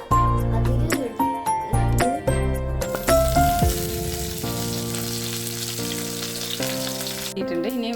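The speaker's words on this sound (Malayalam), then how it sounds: "കടുക് പൊട്ടിയിട്ടുണ്ട്" Mustard seeds spluttering and crackling in hot oil for a Kerala cabbage thoran, a steady close sizzle with scattered pops running beneath a prominent melodic background music track.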